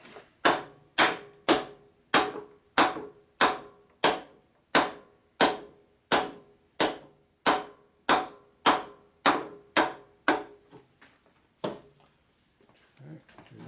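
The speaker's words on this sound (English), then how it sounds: "beat these down with a steel hammer or lead hammer" Steady, evenly spaced steel or lead hammer blows strike Harley Shovelhead engine parts about twice a second, sharp and close, then thin out into a few scattered lighter taps.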